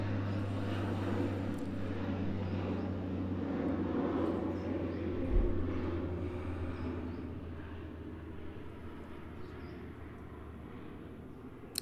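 Steady low drone of an airplane cabin in flight, a continuous engine hum filling the space at an even level with a faint bump partway through.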